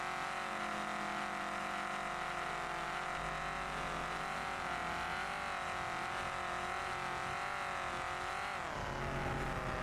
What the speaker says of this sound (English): Holy crap, that car is loud.